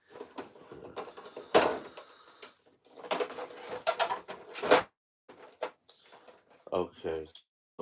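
Small plastic toy hand pieces clatter and knock over on a tabletop, a series of sharp clicks and rattling taps in uneven bursts, close and moderately loud.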